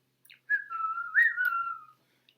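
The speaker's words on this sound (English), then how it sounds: "Show me how you whistle." A person whistles one clear, wavering tune close by, sliding up and down in pitch over a couple of seconds, with nothing else audible.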